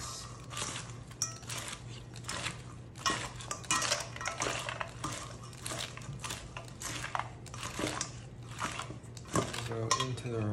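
Salad with croutons being tossed in a bowl, with close, busy clinking of utensils against the dish and crunchy crouton rattling in a continuous mixing rhythm, no talk.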